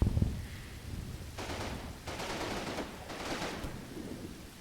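Three long, rumbling bursts of mortar fire from a Combat Mission: Battle for Normandy hedgerow assault arrive one after another at a moderate distance, each a broad roaring blast under soft background battle noise, with no talking.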